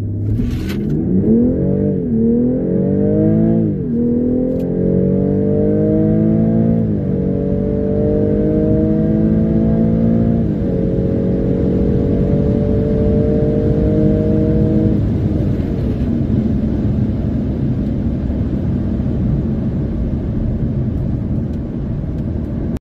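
A BMW X3 M40i running a Burger Motorsports JB4 tune at 4 psi over stock boost accelerates hard, its engine note climbing through several upshifts before settling into a steady, loud drone at speed.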